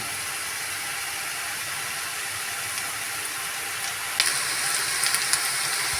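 Onions frying in oil in a pan for a pointed gourd (potol) dish: a steady, fairly loud broadband sizzle runs throughout, with a few sharper crackles and pops near the end and no talking.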